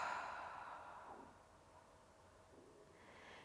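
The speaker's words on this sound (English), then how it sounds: "And then exhaling nice and slow." A slow, deep exhale during yoga breathing, soft and breathy. It starts at its fullest, then gradually fades over a few seconds, quiet and close, with no talking.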